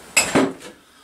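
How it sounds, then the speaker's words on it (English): Two quick metallic clanks of a hammer striking a metal socket on a 1964 Evinrude 40hp outboard motor, sharp and near, each ringing briefly before fading into quiet. "hit it with the hammer"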